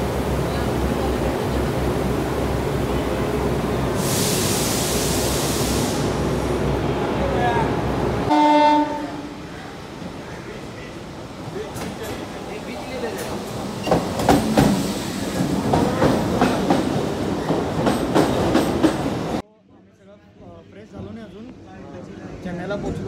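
A Chennai suburban local train heading toward Marina Beach rumbles and rattles steadily from inside the carriage, with a loud burst of high noise early on and a sudden drop in volume near the end.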